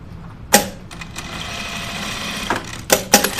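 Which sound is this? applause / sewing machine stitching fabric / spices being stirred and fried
sewing machine stitching fabric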